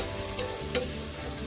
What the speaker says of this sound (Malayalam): സോസേജ് ചേർത്ത് നല്ലപോലെ നമുക്കിത് വറുത്തെടുക്കാം.